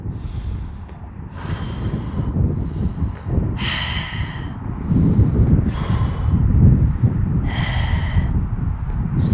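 Deep, heavy breaths in and out, close to the microphone, during outdoor Ashtanga yoga at the Golden Gate Bridge in San Francisco, several slow breaths over low rumbling wind noise.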